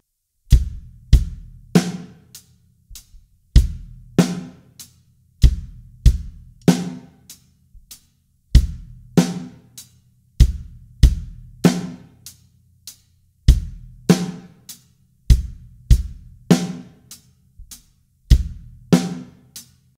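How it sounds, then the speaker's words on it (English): A full drum kit plays a simple beginner beat in a repeating pattern of kick drum, snare and hi-hat, with booming low thumps, sharp snare cracks and bright ticking cymbal strokes, loud, close and without voices. "So if we combine all of the drums together, it would sound like this."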